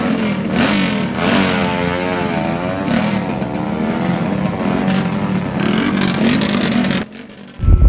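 130cc racing engine on a test run, revving loud and close with a rasping, rising and falling whine held for about seven seconds before dropping off, then picking up again.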